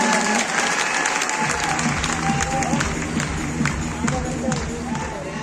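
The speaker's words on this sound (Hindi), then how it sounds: "इनके लिए भी जोरदार ताली है ना" Loud, sustained applause from an event audience with scattered cheers, steady throughout, with a voice faintly underneath.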